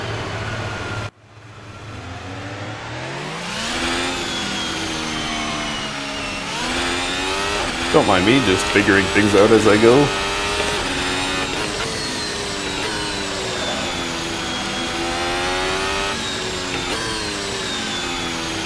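A 2021 Formula 1 car in Assetto Corsa pulls out of the Silverstone pits. After a brief cut, the engine whines up through rising gears, a loud, buzzy high-revving roar with a rattly burst midway, while a voice speaks briefly.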